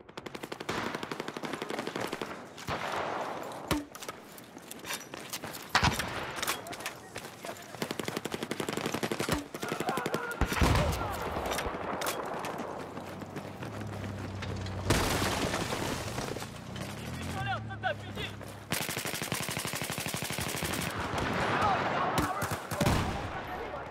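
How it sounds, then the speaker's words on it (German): In Battlefield 4 Capture the Flag, a player shoots at a quad bike. Loud rapid bursts of automatic gunfire come repeatedly, mixed with single shots and a few booms, with occasional talk. "Jetzt extra erstmal auf das Quad geschossen, damit das ein bisschen was beschädigt ist."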